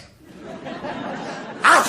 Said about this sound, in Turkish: Birinin yanında bir kere hapşırmasına bakar.